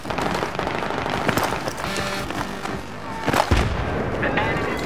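A grenade blast goes off in a Battlefield 3 Rush match, one loud booming burst amid ongoing gunfire and battle noise, with players' voices talking over the chaos.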